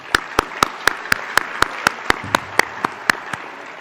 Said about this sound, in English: I want you to give all yourselves a tremendous round of applause for attending this year's convention in person.